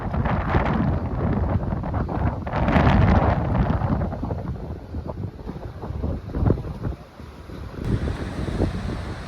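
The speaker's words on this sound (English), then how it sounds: "the wind's hitting me directly in the face" Strong wind buffets the microphone on a seafront, producing a loud, continuous roar that surges and eases over the full length, with no voices.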